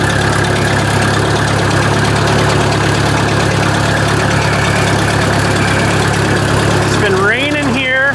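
Old tractor engine fitted with electronic ignition idling outdoors at night, a steady close rumble with an even low throb throughout, joined near the end by a brief rising whine.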